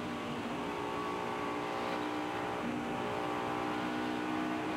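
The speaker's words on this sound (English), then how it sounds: "You hear him kind of pedaling that throttle up off the corner, Darrell." A NASCAR race car engine at the 2001 MBNA Platinum 400, the driver pedaling the throttle off a corner: a dense, steady roaring drone with slight surges, loud and continuous, with no talk over it.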